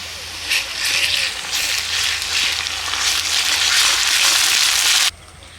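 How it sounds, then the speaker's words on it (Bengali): Steady frying sizzle of ginger-garlic paste being stirred in a pan, loud and continuous, cutting off abruptly near the end. "আদা রসুন বাটা দিয়ে আমি দু চার মিনিট নেড়ে ছেড়ে নিলাম ভাজা হয়ে গেছে"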